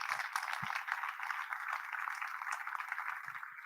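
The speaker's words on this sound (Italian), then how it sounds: "Vi chiedo per Olimpia Matacena un applauso" Audience applause for Olimpia Matacena at the Premio Navicella Sardegna award ceremony, a steady, dense wash of many hands clapping from a crowd, sustained evenly throughout at moderate distance.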